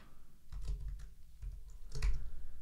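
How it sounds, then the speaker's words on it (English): Typing on a keyboard while working out a math problem, a few bursts of clicky keystrokes spaced across a couple of seconds, close and moderately loud with no talk. "Almost there, I'm typing this up"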